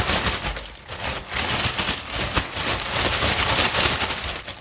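Dense rattling and crinkling from chicken wings and seasoning being shaken in a plastic bag, a steady close-up churn lasting several seconds with no voices.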